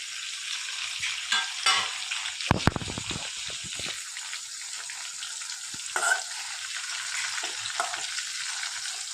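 Chopped tomatoes hit a pan of stuffed spiny gourd curry, giving a loud frying hiss broken by sharp clatters and scraping from stirring, then a steady sizzle.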